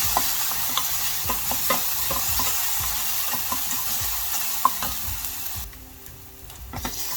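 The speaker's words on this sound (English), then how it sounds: "Just to fry up the onion nicely." Onion frying in a pan with a pinch of salt for a Kerala dal curry, a steady crackling sizzle broken by frequent scraping stirs, close and alone with no voices.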